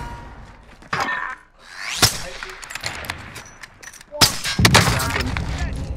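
Gunfire in Call of Duty Modern Warfare, with sharp shots and bursts mixed with in-game explosions and impacts, while a player talks over the action.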